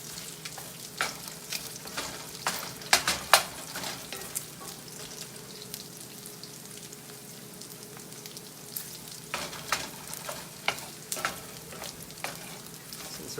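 Sausage frying in a cast iron pan gives a steady, moderate sizzle with scattered pops and crackles, clustered bursts around the middle and near the end, with no voices.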